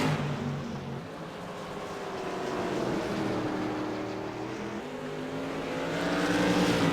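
CRA modified race cars battling for the lead at Irwindale Speedway, engines droning in a continuous loud roar that swells and dips as the pack circles past at a distance.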